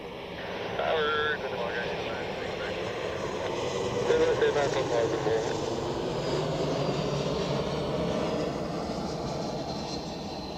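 A Croatia Airlines airliner at Zurich Airport sends out a steady, broad jet roar that swells slightly midway and holds for about ten seconds, with muffled voices faintly underneath.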